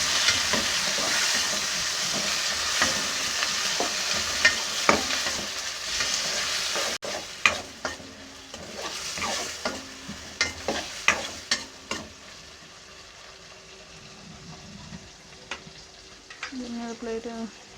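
Green chillies being stirred in a cooking pan, with a steady sizzle of frying and a run of sharp scraping and clinking strokes in the middle, close and fairly quiet.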